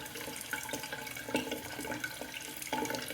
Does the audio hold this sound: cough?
no